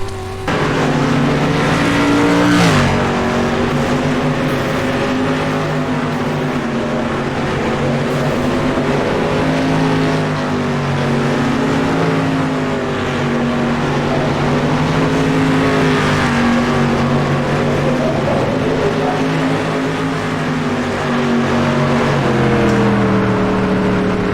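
A dirt street stock race car in the iRacing game drones through corners, the engine note dipping and climbing as revs are lost and regained, loud and continuous for the whole stretch with no talk over it.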